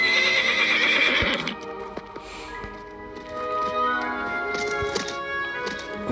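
A horse neighs loudly in a shrill whinny at the start, followed by soft clip-clop hoof taps and game sound effects.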